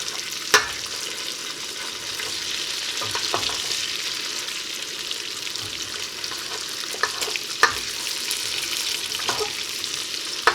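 Chorizo sizzles in bacon grease in a cabin kitchen, a steady crackling fry with occasional sharp pops and a few scraping stirs, close and without talk.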